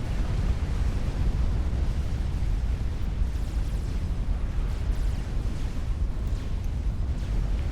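Explosions rumble through a large-scale battle in the real-time strategy game Supreme Commander, a loud, continuous wall of deep blasts and booms that never lets up.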